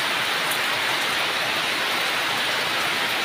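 A downpour drums over a rural village in a thick, steady rush of falling water, loud and close, with scattered louder drops and no voices heard.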